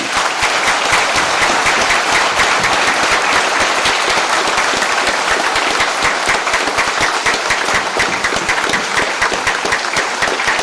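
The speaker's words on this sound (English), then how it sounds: "So I think we owe every one of them a round of applause this evening." Large audience at a town hall with the Texas attorney general and sheriffs applauding law enforcement, dense sustained clapping filling the whole stretch at steady loudness.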